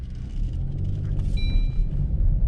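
A car moves along a road with a steady, close engine rumble that builds slightly in the cabin while driving, with no talk over it.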